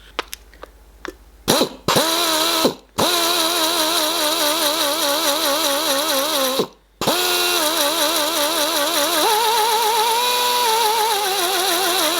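A power drill driving a valve lapping tool whirs continuously with a warbling, oscillating mechanical tone, briefly stopping and restarting a few times, while valves are lapped on a DW12 cylinder head.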